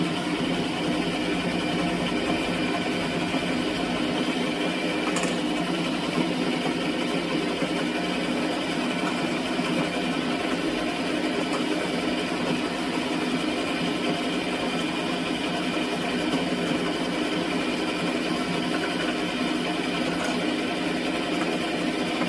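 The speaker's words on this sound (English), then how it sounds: "We're just gonna stick with the sewing machine, y'all." A sewing machine runs continuously at a steady, even pace for over twenty seconds while stitching a DIY dress, its close, dense whir unbroken and alone with no talking.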